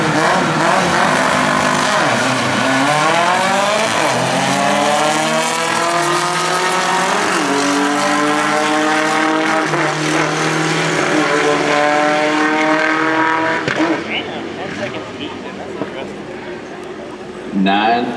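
A drag racing car making a run at a Bug Out event, loud and close with a rising engine roar that climbs through the gears and then cuts off near the end, while an announcer talks over it.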